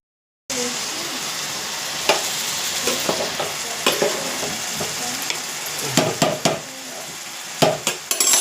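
Curry leaves frying in hot oil in a pan for a beetroot stir-fry, with a steady broad sizzle and occasional clinks and scrapes of stirring. The sound is close and continuous, with no talking.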